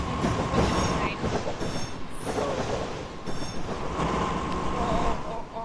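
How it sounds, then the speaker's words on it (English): A CN train in the Roblox game Jailbreak rushes past, its rumbling wheels clattering with squealing metallic tones throughout a brief, close pass while a voice talks over it. "a CN train just flew past by me"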